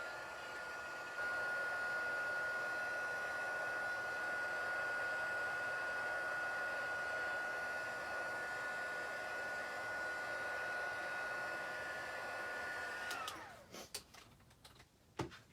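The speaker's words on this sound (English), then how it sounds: "So I'm just going to zap it with my heat tool one time." A heat tool blows steadily to dry a wet stamped craft image, a constant whirring hiss with a high whine that runs for about thirteen seconds before shutting off, followed by a few light clicks and handling sounds.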